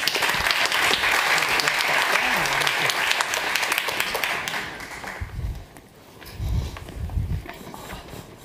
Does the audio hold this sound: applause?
yes